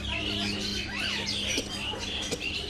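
Parrots in trees in Vrindavan chirp and call repeatedly over a dense, noisy outdoor background with a faint voice mixed in.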